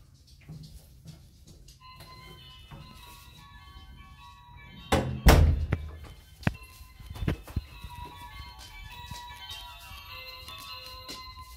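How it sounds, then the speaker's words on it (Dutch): A home front doorbell being rung, giving a sharp electronic chime with sustained tonal ringing notes after a burst of handling and clatter, followed by scattered knocks and thumps in a quiet hallway. "En ik ga ze op mijn eigen deurbel even bellen. Dan horen jullie dus nu ook dat hij het doet."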